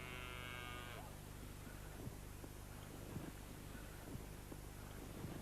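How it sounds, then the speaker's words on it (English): A Longhorn bull with very long horns and a ring through his nose at a country park, giving a low, faint drawn-out moo over steady outdoor wind and background hum. "bull."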